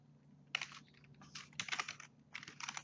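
Bursts of typing on a computer keyboard during a hands-on Ansible web-server lab, with clustered key clicks in short runs separated by brief pauses over a low steady hum, fairly close and quiet.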